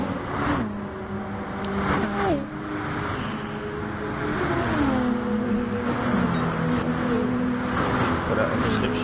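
Nissan and Peugeot race cars in a racing video game run together on the Sardegna road track. Their engines hold a steady drone that climbs through rising and falling gear shifts, close and loud throughout, with a commentator talking over them.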